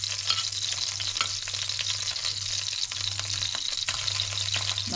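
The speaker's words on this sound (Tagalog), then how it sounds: "Pangalawang batch, ipritohin na naman natin" Salmon fries in a pan, a second batch of fish giving a steady, close sizzle with occasional crackles and faint stirring, with no speech.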